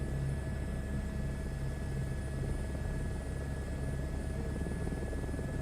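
A helicopter spools up for takeoff in a VR flight game, its steady rotor and turbine drone loud and continuous, with no talking over it.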